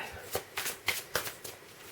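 Deck of tarot cards shuffled by hand close up, giving quick soft riffling bursts in an irregular rhythm, about five or six flurries, quiet with no talk.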